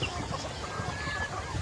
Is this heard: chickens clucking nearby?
yes